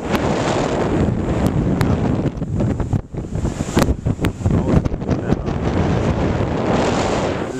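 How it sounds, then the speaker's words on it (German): Strong, gusty wind at a San Diego beach surf contest roars and buffets the microphone continuously, with occasional sharp thumps as gusts hit, steady and loud throughout. "Sehr, sehr windig."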